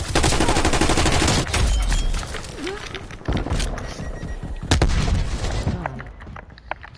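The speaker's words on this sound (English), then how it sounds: "they're just throwing grenades in my face" Dense gunfire and grenade blasts from a Fortnite or Call of Duty match, with loud bursts and heavy booms near 1.5 and 3.3 seconds and again around 4.7 seconds, and a voice breaking in briefly.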